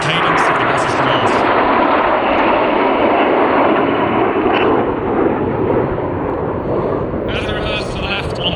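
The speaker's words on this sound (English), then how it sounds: "As the team sweep past, the first part of the show is designed to demonstrate the aircraft flying as one." Red Arrows jets sweep past in formation at the Midlands Air Festival, a loud sustained roar of engines that swells and holds, with a commentator talking over the noise.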